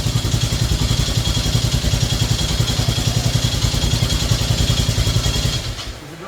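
A Yamaha Grizzly 600 ATV engine runs at a steady, rough, rapid chugging idle, loud and close, with mechanical clatter, before the note drops and fades near the end; no distinct backfire pops stand out.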